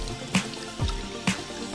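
Tap water runs steadily while hands are washed at a kitchen sink, with three short splashy bursts standing out over the low, even flow.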